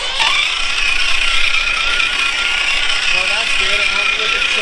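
An RC crawler fitted with an Injora 80T motor runs in second gear, giving a steady close whirring, gear-grinding whine that holds for the whole stretch.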